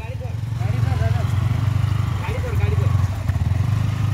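A Yamaha motorcycle rides over a rough track, its engine holding a steady close, low drone for the whole stretch, with faint voices sounding over it.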